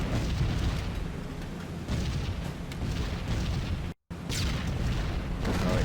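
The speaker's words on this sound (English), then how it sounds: "Meantime, we're in the flak." Flak bursting around a B-17 Flying Fortress bomber in a flight game, a dense, continuous rumble of explosions and booms at close range, with a brief dropout partway through.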